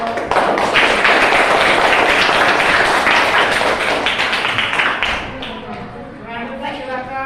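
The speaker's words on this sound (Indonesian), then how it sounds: "Tepuk tangan untuk" Classroom audience applauding after a student group's presentation in a teacher training session, dense clapping filling several seconds before tapering off, with a voice speaking over the fading end.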